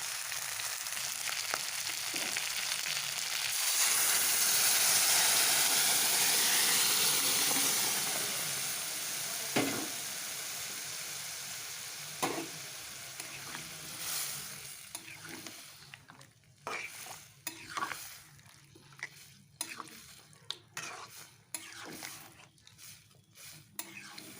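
Lentil dal with a fish head sizzles loudly in a pan for several seconds, then fades into softer bubbling while a spoon stirs and scrapes against the pan in quick, irregular clicks.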